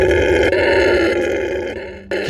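A howler monkey letting out a deep, loud, sustained roaring howl that carries strongly, rough and resonant, broken by a brief pause before resuming.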